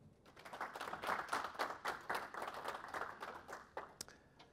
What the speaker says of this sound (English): Give a round of applause to Thomas Dunbar.